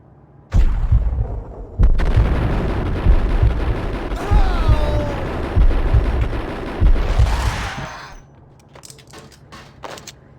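Enemy shotgun blasts in the Max Payne video game: several heavy, booming shots spaced about a second apart, loud and close, with a rumbling game soundscape between them and a few quieter clicks afterward.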